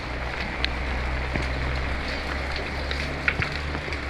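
Steady rain pouring during a typhoon, a dense, even hiss of water on surfaces with a few sharper drops and knocks standing out, heard close with no talking.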